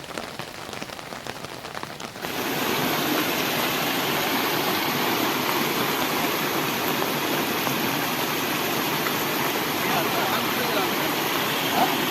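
A river in rural Konkan, swollen by days of heavy monsoon rain, rushes past in a loud, continuous roar of floodwater. The sound starts quieter and then swells abruptly into a full, unbroken torrent after about two seconds.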